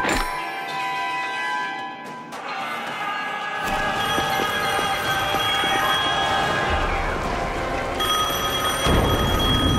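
A phone rings in the Devil May Cry 5 video game, a sustained electronic ringing tone repeating over a steady layer of game music and ambience, fairly loud throughout.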